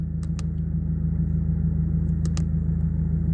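A Subaru WRX engine idles nearby with a low, steady rumble and a faint hum, broken by a few light ticks; the revs barely seem to waver.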